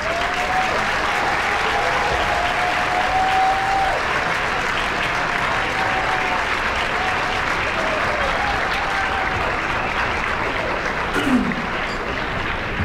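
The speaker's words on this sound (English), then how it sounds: "Can we get a clap for" Audience applause at a community club's Dr. Martin Luther King, Jr. memorial breakfast, sustained crowd clapping for over twelve seconds at an even, fairly loud level, with faint voices beneath it.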